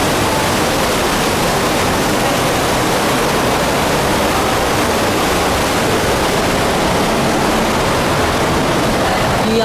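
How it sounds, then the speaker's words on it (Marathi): A roaring waterfall at Shivtharghal cave pours as a dense, loud, continuous wash of broadband rushing water, unbroken and unvarying throughout, with no voices. "धबधबाचा प्रचंड आवाज येतोय"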